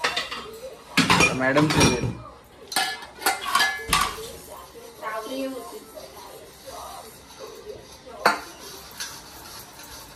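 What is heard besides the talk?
washing dishes, pots and cutlery clinking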